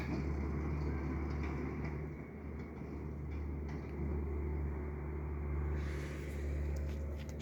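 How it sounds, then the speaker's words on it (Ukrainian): A combine harvester's engine rumbles quietly at a distance on a village field during harvest, a low steady drone that swells and fades slightly as the machine pulls away. "Комбайн пішов."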